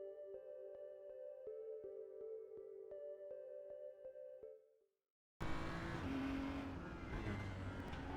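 A race car circles the track during qualifying in a racing video game. A steady tonal hum with faint regular ticks cuts to brief silence, then a loud, rough, broadband engine roar.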